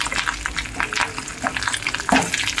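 Pieces of fish roe frying in a pan, a close, loud crackling sizzle with stirring and turning noises in short bursts throughout.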